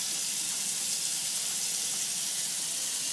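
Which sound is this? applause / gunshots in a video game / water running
water running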